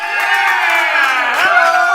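A large arena crowd cheers and applauds as a comedian is introduced on stage, a dense, sustained roar of voices, whoops and clapping that stays loud and steady throughout.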